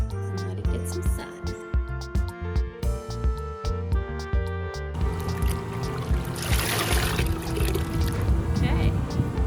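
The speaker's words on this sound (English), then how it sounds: "Now I'm just pouring pure water in." Water is poured into a jar from a solar dye kit for natural dyeing, giving a steady splashing, filling rush in the second half after a stretch of rhythmic tapping and other sounds.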